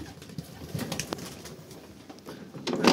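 Pigeons gathering indoors to feed coo softly among faint rustles and light clatter, with a louder burst of activity near the end.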